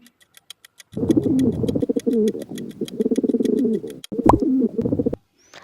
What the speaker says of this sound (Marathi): होय हे कबूतर आहे